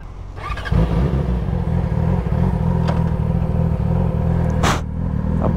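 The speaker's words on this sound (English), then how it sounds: "Why is it revving up, bro?" At a gas pump, an engine revs up, jumping to a loud, close, rumbling drone within the first second and holding it steadily with slight wavering and no speech.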